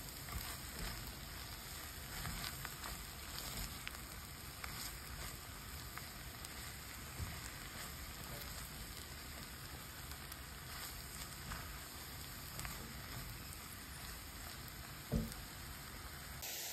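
Mushrooms and onions frying in a pan while being stirred, a steady soft sizzle throughout, fairly faint and close, with an occasional light scrape or knock of the spoon.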